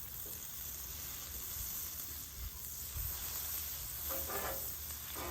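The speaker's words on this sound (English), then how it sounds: "Let's add butter on the second side." Butter sizzles steadily in a pan for a turkey Rachel sandwich, a soft continuous frying hiss with faint occasional crackles.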